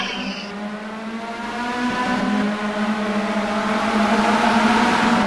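Race cars at the Nogaro circuit pull away from the start together, their engines rising in a loud, sustained multi-car roar that climbs steadily in pitch and builds in volume, with no voices over it.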